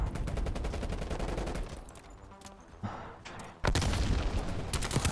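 A suppressed AK74u in the Black Ops Cold War video game fires in sustained rapid automatic bursts, with a short pause midway before the loud, dense chatter resumes.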